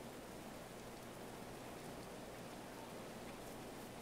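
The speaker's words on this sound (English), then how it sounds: "it's rainy" Steady rain falling in the medieval colony-building game Going Medieval, a soft, continuous broadband hiss at low level with no distinct drops standing out and no talking.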